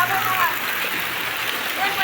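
Heavy rain pouring down in Bohol, a broad, continuous hiss and rush of water that stays loud and even throughout, with faint voices mixed underneath.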